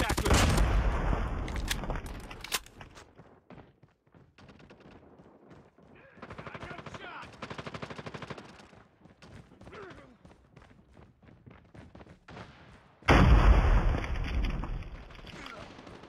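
A sentry gun fires in a Call of Duty Frontline Crossroads Strike match: loud rapid bursts at the start and end, with scattered quieter shots and impacts in between.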